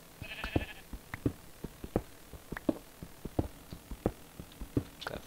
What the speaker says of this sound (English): Unfortunately, sheep can't give me any food right now.